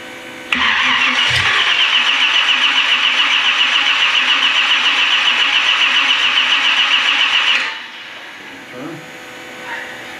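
A 1965 Chevrolet Malibu with a 383 stroker V8 cranks loud and close on its first start, a steady rhythmic churn lasting about seven seconds before cutting off, followed by faint, scattered noises.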